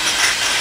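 A drill running in the next room gives off a harsh, steady burst of broadband noise that fills the short moment at fairly high volume.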